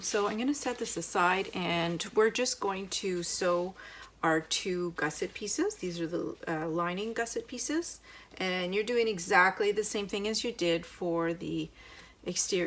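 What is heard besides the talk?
No distinct noise like a dog, phone or traffic.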